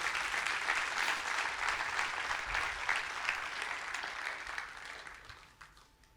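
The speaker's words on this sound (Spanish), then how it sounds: "Dele un fuerte aplauso a Dios." A church congregation applauds loudly in a dense, sustained burst of clapping that slowly fades toward the end.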